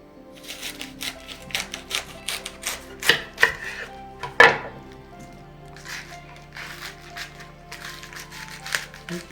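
A knife slices through cabbage on a cutting board in quick, irregular crisp cuts, loud and close, with no talking.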